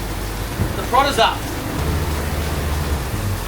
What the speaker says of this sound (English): This is the first storm we've had. Definitely a storm. Very wet.